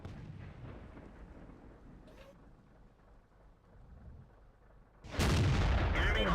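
A single heavy StuG III tank gun shot booms out close and loud in World of Tanks, a sudden blast that cuts through a low rumbling battlefield ambience.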